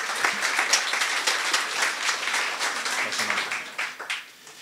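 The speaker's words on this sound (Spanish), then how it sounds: "Un fuerte aplauso también, por favor" An audience at a university mechatronics congress applauds during a gift presentation, a busy patter of many claps that holds steady and then thins and fades toward the end.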